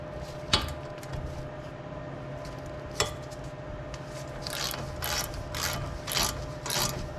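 A hand ratchet works loose the front suspension fasteners on a Porsche 911 996 during strut removal, with two sharp clicks early on followed by a series of rapid, close ratcheting bursts against a steady mechanical background.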